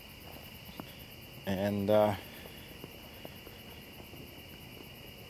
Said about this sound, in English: we go over to this side and we can hear more crickets.